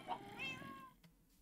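A Minecraft cat lets out a couple of short, faint meows in quick succession, followed by a soft click and near silence.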